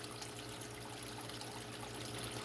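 Faint, steady trickling of water in a 40-gallon waterfall aquarium tank, a continuous soft splash alongside a low electrical hum, with no talking.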